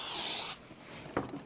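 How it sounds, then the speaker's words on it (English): Cooking oil spray hisses steadily into a cake pan for about half a second, loud and close, then stops, followed by faint kitchen clatter. "So I'm just gonna get a little pan. I'm gonna spray everything down"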